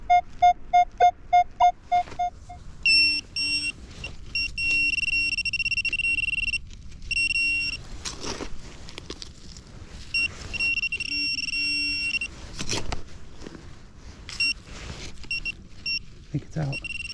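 A Minelab X-TERRA PRO metal detector gives target tones during a park hunt: a series of short beeps, then sustained electronic tones that break off and return, with a person talking over them and rustling outdoor noise.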